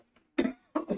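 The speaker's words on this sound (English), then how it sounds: "I'm going to go clear my throat." Two short, harsh bursts of throat clearing, close to the mic, separated by a brief pause, with a faint murmur before them.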